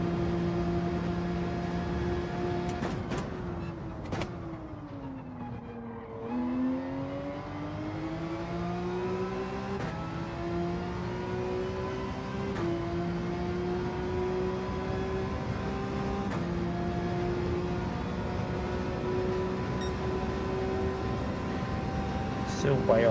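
Porsche race car engine in Gran Turismo 7, a steady droning tone that dips as the car slows, then climbs and holds through gear changes, continuous and fairly loud, with someone talking over it.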